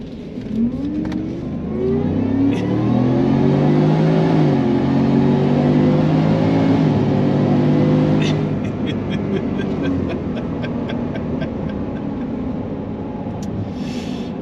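A 775-horsepower Whipple-supercharged Ford F-150 pickup with a stock 5.0 engine accelerates hard, its loud, close roar climbing through the gears with a supercharger whine. The roar then eases to a lower drone with some clicking.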